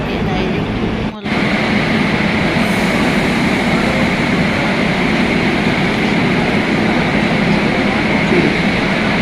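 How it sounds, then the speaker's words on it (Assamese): A metro train pulling into a station in Kerala, its loud, steady rumble and roar sustained throughout with a brief dip at the start, while people talk faintly underneath. "এয়া মেট্ৰ' আহি পালেহি"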